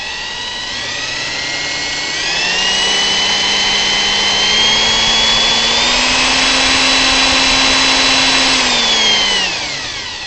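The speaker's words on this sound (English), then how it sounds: "I have a drill here, and I'm just going to demonstrate what happens when we start turning that" A handheld drill spins a three-phase alternator, producing a loud, steady whine that climbs in pitch as it speeds up and holds for several seconds before winding down. One brief spoken word sits at the start.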